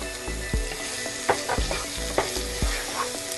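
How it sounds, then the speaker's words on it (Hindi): A spatula scrapes and knocks rhythmically through minced meat with red chili powder and salt in a hot pan, each stroke clacking over a constant sizzle. "अच्छे से हिला देते हैं"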